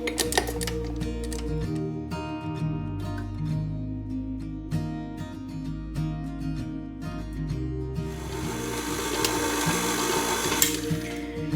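A steady mechanical whir with rhythmic clicking as an Easter candy mixture is mixed for a no-bake sweet, continuing evenly throughout and growing brighter and noisier toward the end.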